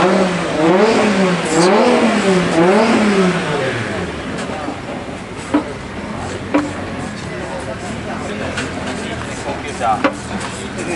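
A 1000-horsepower drift car at a D1 China round revs hard in repeated rising and falling bursts, then settles into a rougher rumble with sharp pops, loud and fairly close amid event noise.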